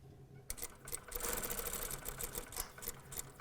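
A sewing machine running a pin stitch along fabric for a lapped zipper pocket on a vest, a quiet, rapid rattling stitch sound that starts abruptly after a brief pause and continues with slight variations.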